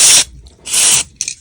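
Contact cleaner is sprayed into the controls of a 1942 Zenith 6D630 antique radio in three short hissing bursts, the first two about half a second each and the last briefer, loud and very close.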